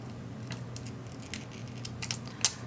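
A sheet of paper from a recipe planner cut down with scissors, with a few soft snips that end in one sharp, close crunch of the blades closing.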